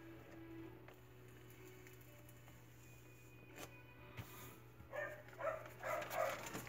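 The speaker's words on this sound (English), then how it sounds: "It's my dog barking." A dog barks faintly in the distance, a short run of soft yips and barks near the end over a quiet indoor hum.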